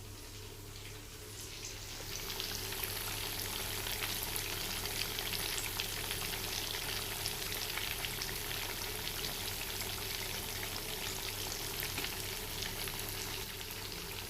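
Fish frying in hot oil with fenugreek seeds, a dense continuous crackling sizzle that swells after a quieter start and holds steady, close and fairly loud, with no talking.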